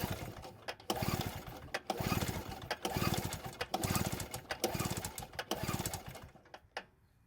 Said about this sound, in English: pull the rope till the needle stops moving